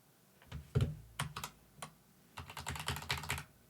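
Rapid bursts of typing on a computer keyboard, close and clear, with irregular clusters of clicking keystrokes separated by a short pause and no talk.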